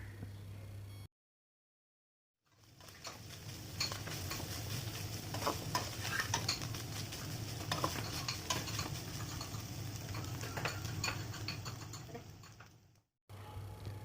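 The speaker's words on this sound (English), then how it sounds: "I'm simply frying it with mustard oil." Small dry fish frying in mustard oil over a low flame, a steady close sizzle with gentle stirring scrapes and clicks, starting after a brief gap and stopping abruptly.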